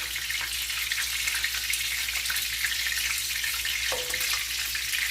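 Food fries in oil with a steady, even sizzling hiss throughout, close and fairly loud, with one brief higher-pitched clink partway through.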